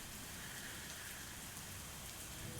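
Rain falling in a video game scene, a soft, steady hiss of drops on a surface, faint and unbroken throughout.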